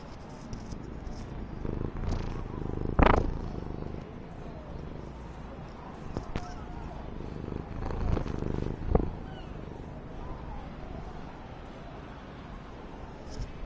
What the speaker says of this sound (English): cat cameo